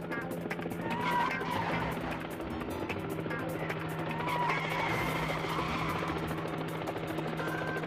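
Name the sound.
pickup truck doing wheel spins and skidding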